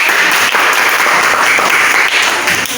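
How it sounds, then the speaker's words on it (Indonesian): Loud applause from students in a junior high school classroom, a brief, dense burst of many hands clapping together that holds steady for nearly three seconds. "Tepuk tangan buat."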